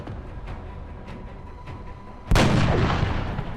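A single loud, booming sniper rifle shot from the XCOM: Enemy Unknown video game, with a long rumbling tail after a stretch of quiet in-game ambience and faint ticks.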